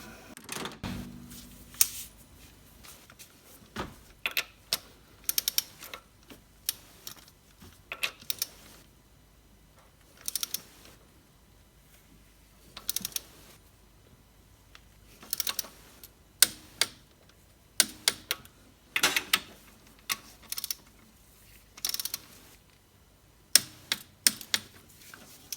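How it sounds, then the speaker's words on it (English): Injector H-clamp nuts on an Isuzu 4JX1 diesel engine are tightened to torque, heard as quiet ratcheting and sharp mechanical clicks in short, irregular bursts separated by near silence. "Tighten the H-clamp nuts to the specified torque to seat the injectors at 30 Newton meters."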